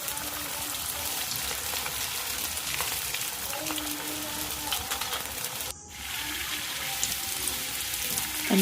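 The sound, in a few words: rolls frying until crisp in oil in a wok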